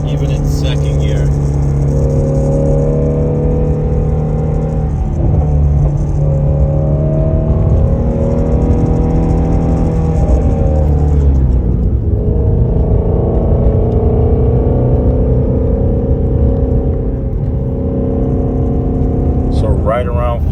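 Ford Mustang GT350R with its exhaust open revs steadily, rising and falling in loud sustained sweeps with an underlying rattle around 4,000 RPM, close and continuous.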